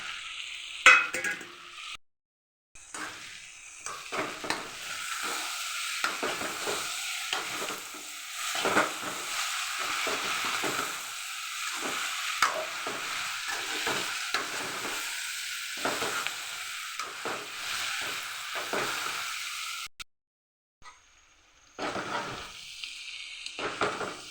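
Bitter gourd poriyal stir-frying in a pan, a steady close sizzle broken by repeated scraping stirs, with a short pause near the start and the frying dropping away near the end; no talking.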